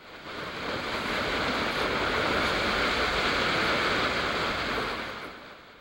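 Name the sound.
waterfall water crashing onto rocks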